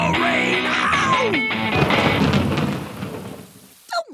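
A cartoon thunderstorm with a loud crash of thunder over steady pouring rain, close and dense, with some cartoon sound effects, fading out near the end.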